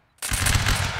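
A Napoleonic Wars musket volley from a line of soldiers cracks out after a short silence, a loud dense burst of overlapping shots that merges into one sustained roar and keeps rumbling to the end.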